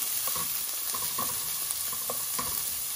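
Chorizo, carrot and herbs sizzle and crackle steadily in a hot pan, with occasional scrapes and stirring clicks from a utensil, close and continuous with no talking.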